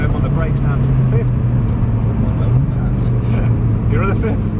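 Lamborghini on the Prestwold track braking hard and downshifting to fifth, engine note falling and wavering under steady cabin noise while an instructor speaks over it.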